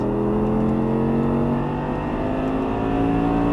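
An Audi R8 accelerates hard out of a turn on a track, its engine note loud, close and steadily rising in pitch throughout.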